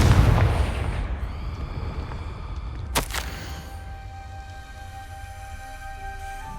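A Confringo explosive spell goes off in Hogwarts Legacy: one sharp, loud blast rings out just after an opening rumble, with a fading tail and low ambient drone.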